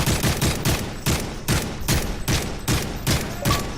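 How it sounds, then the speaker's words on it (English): Rapid bursts of gunfire in a competitive shooter match, rounds fired through a wall, about a dozen evenly spaced loud shots over a few seconds with no talk. "A little bit of a wall bang going on there for Vaporize."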